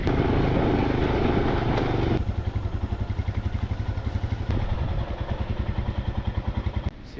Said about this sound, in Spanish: Ahora nos vamos en moto.